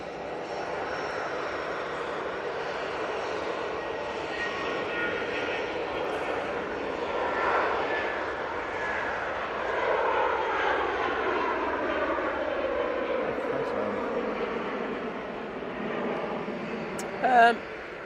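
A passenger jet at Manchester Airport roars past with a broad, sustained engine rumble that swells and fades over nearly twenty seconds, heard from a distance with people talking over it.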